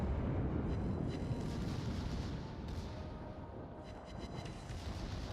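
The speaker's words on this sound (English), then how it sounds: "Beautiful salvo there on the Nagato" A naval gun salvo from the battleship Nagato in World of Warships rolls out as a heavy, continuous booming rumble that fades slightly toward the end, loud and close.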